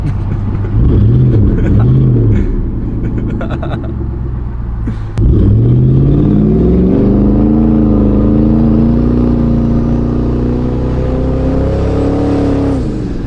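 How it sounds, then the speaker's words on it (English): A turbocharged Kia car engine revs hard and loud, its pitch climbing through a short burst, then dropping before a second long, sustained rising pull with a deep rumble close by. "Jeez, those turbos are so crazy."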